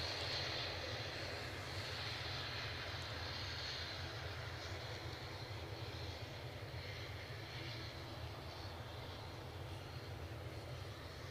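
An airplane at Edinburgh Airport rumbles with a steady, loud engine roar and broad rushing noise that holds throughout, with no talking.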